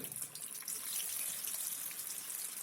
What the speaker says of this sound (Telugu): నూనె కాగిందంటే ఒక్కొక్క పీస్ తీసి మనం నూనెలో వేసుకోవాలి